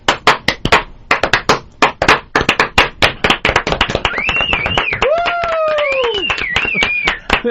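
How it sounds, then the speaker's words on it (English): A slow clap from one person on a comedy talk radio show, sharp separate claps at a steady even pace, close and loud, speeding slightly before voices and laughter take over near the end. "Love the slow clap."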